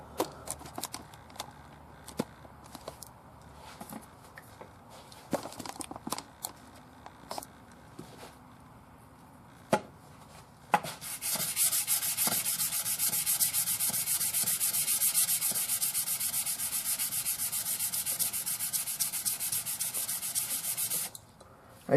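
Cheap Harbor Freight chisel sharpened on 800 grit sandpaper: a few scattered taps and scrapes at first, then about ten seconds of steady, close, hissing back-and-forth rubbing that stops abruptly near the end.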